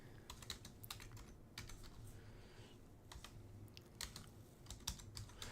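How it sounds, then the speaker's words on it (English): Rapid clicking of computer keyboard keys being typed at a desk during a live stock market stream, steady irregular bursts of close, soft keystrokes with no talking. "as I'm typing these in"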